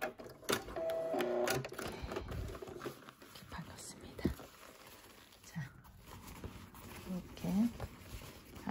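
A Brother home sewing machine stitches a leather jacket sleeve with a stitch length set to 4, giving quiet uneven mechanical whirring and ticking, with soft handling noises and a voice speaking at times.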